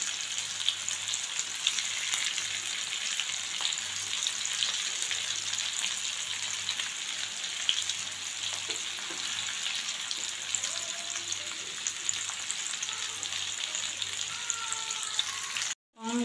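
Green pea kebabs frying in hot oil in a non-stick pan over a low flame, a steady close crackling sizzle with faint pops throughout and a low background hum, ending with a brief knock.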